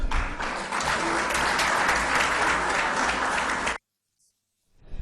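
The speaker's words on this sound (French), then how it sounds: "Je vous invite donc de l'applaudir." Loud, dense applause fills the National Assembly chamber in Djibouti, sustained and even for several seconds before cutting off abruptly into silence.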